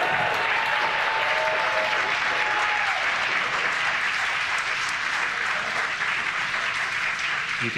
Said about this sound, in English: You can hear the cheer and the applause